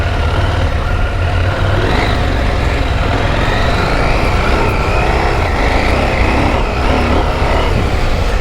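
A motorcycle engine pulls hard up a hill, a steady, loud, close drone laid over constant wind rush with no pauses.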